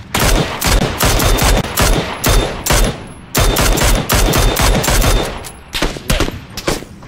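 Rapid bursts of gunfire in PUBG, loud and close, with short pauses between volleys and near-continuous automatic firing.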